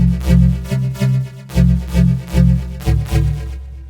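A synthesizer tone sweeps from a pointy waveform toward a square wave, playing as a pulsing sequence of low repeated notes, loud and alone, its timbre gradually changing as the harmonics shift.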